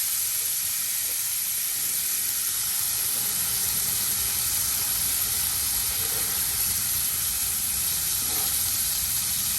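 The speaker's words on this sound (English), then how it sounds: "Got the shrimp in there." Shrimp frying in grease at a camp stove while camping, giving a steady, loud sizzling hiss that runs unbroken the whole time with no talk over it.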